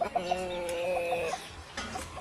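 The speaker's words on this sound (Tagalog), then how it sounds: "Ayos ang kanyang mga manok din eh" Chickens in a backyard flock cluck in a drawn-out, repeated call that fills the first half, followed by quieter scattered clucks; the sound is fairly close and moderately loud.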